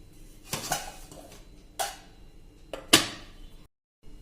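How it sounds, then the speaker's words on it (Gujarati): Dosa batter being moved into a bowl and covered: three separate clinks and knocks of dishware and metal, spaced about a second apart, each ringing briefly against a quiet background before the sound abruptly drops to silence. "આપણે એને એક બાઉલમાં લઈ લેશું, અને આને આપણે 10 મિનિટ મિત્રો ઢાંકીને રેસ્ટ આપી દેશું"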